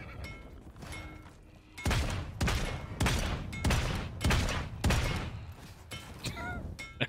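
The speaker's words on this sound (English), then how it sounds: "They're really shooting all over the place." Gunfire in the Realm Royale battle royale game comes as a series of about seven loud, heavy volleys spaced under a second apart, with a brief voice near the end.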